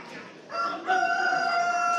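A rooster crows amid live chickens at a busy Marrakech market, a clear drawn-out call rising after a short burst of clucking and background bustle, moderately close.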